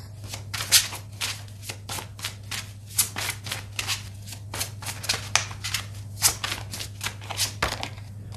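A deck of tarot cards being shuffled by hand, quick riffling bursts and soft slaps repeating in an irregular rhythm for several seconds, close and clear over a steady low hum, with no voices.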